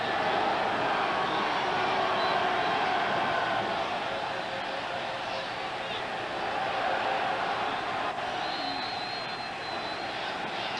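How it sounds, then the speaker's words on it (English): A packed crowd at Cleveland Stadium during a 1995 Browns home game against the Houston Oilers makes a steady, dense roar that stays loud and unbroken throughout, with no clear chant rhythm standing out. "As you can hear in the background, the crowd chanting right now."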